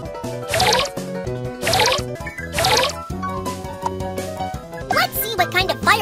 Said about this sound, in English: Pour the fuel into the fireworks machine.